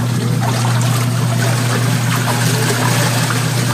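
Water runs steadily into a Eureka washing machine tub, a loud, continuous rushing and splashing with a low hum underneath and no pauses, close to the listener.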